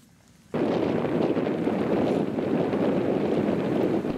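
Strong wind gusts across open farmland in Essex on a windy night, roaring steadily and loudly against the microphone after a brief quiet start.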